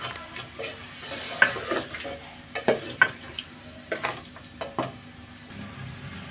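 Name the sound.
meat frying and stirring with ginger garlic paste for mutton nihari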